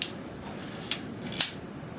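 A film SLR camera fires a one-second exposure: two faint mechanical clicks about half a second apart, the mirror flipping up and the shutter opening, then the shutter closing and the mirror dropping, the second click sharper, in a quiet room.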